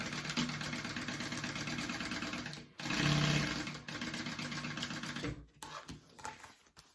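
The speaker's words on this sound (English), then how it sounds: "we are stitching together. Sewing." A sewing machine stitching handbag pieces for a Zoella handbag, right sides together, runs in steady mechanical bursts with a rapid rhythmic whir, pausing briefly and restarting, close and fairly loud throughout.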